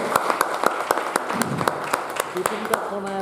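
Rhythmic clapping from an audience at a motivational network-marketing talk, sharp regular claps in a steady beat with a voice speaking over them.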